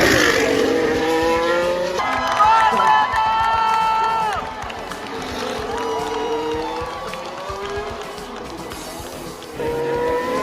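A crowd at the Miami Grand Prix cheers and roars over the drone of race cars, the engine whine rising and falling as cars pass while voices swell and fade across the crowd noise.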